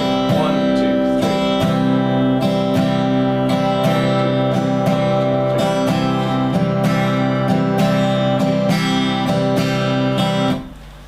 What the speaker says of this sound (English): all of that was a shuffle rhythm. It's got a real driving groove about it